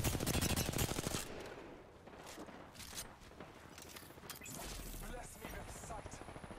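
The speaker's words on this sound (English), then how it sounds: "Throwing thermite grenade." A thermite grenade is thrown in the video game Apex Legends amid a fight: a burst of rapid crackling gunfire at the start, then scattered clicks, thuds and sharp hits, all fairly quiet.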